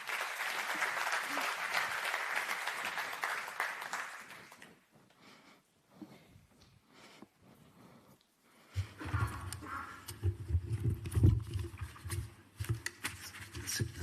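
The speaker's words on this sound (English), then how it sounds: "Big round of applause, please." An audience at the Vienna Food Safety Forum 2025 claps loudly for about four seconds. The applause then drops away to quieter room sounds, and a low rumble with faint activity follows.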